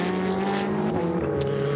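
Ferrari Challenge race car at Le Castellet, a steady droning engine note with sustained tones that shift slightly in pitch as it passes, moderately loud and unbroken throughout.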